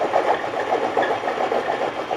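A motorized Harbor Freight tubing roller runs with a steady, fairly loud mechanical drone that holds an even, slightly pulsing hum throughout, with no voices.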